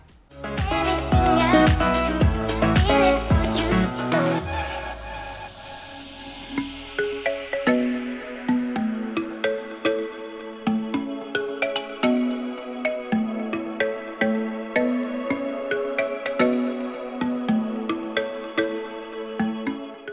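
Music plays through Edifier flagship speakers with bass, harmonic chords and steady rhythmic beats, fairly loud and continuous throughout.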